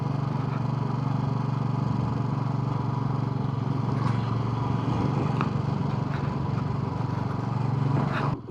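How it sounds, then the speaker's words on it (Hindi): A motorcycle labours uphill on the mountain road toward Shinkula Pass, its engine giving a steady, close, droning rumble that runs without a break until it cuts off abruptly at the end. "बाइक में तो ऐसा लग रहा है जान ही नहीं है"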